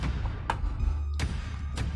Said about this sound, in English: The knocking's getting closer.